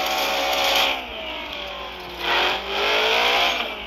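Chevrolet El Camino spinning its wheels on dirt with no traction, engine revving loud and steady with rising and falling surges, close by, no talking.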